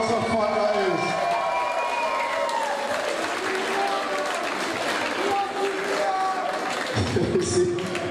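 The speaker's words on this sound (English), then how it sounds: "Guys, again, give it up for Liam, please." An arena crowd at a boxing bout cheers and applauds a fighter after the fight, loud sustained clapping and shouts close by, with voices talking over the noise throughout.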